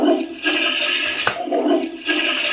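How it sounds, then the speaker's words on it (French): Flushing sound from a Hasbro Délir'o Toilette toy toilet game, loud rushing water-like bursts that repeat in surges, close by with no talking. "il faut d'abord tirer la chasse d'eau autant de fois qu'il faut jusqu'à ce que le premier jet sorte"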